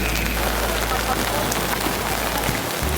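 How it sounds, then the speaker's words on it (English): Heavy rain pours down on a Tokyo street, a loud, dense, continuous hiss of drops on surfaces with no break. "It's pouring, currently pouring down rain"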